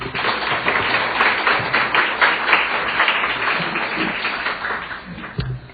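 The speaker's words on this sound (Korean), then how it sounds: "큰 박수로 목사님 모시겠습니다" A church audience gives a warm round of applause to welcome a pastor, a full, steady clatter of many hands that stays even throughout without speech.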